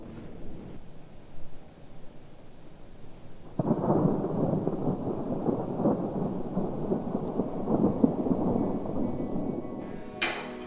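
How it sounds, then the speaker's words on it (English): A thunderstorm heard from a porch brings a deep thunder rumble that swells partway through and rolls on over steady rain, with a sharp crackle near the end. "I both love thunderstorms, and the first one of the season arrived just a few nights ago."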